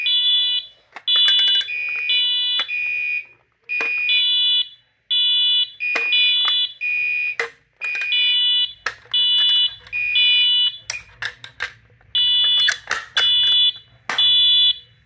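A smoke-detector fire alarm sounds in loud repeated bursts of shrill triple beeps, starting and stopping over and over as it is tested and reset, with sharp clicks between bursts and a low hum entering partway through.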